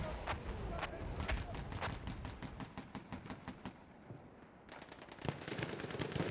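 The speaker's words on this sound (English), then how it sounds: "some artillery coming down, not getting any kills as far as I can tell" Artillery and rapid gunfire in a large 16-versus-16 Battlefield-style online war game, dense bursts of cracking shots and booms in quick succession, loud and continuous with a brief lull near the end.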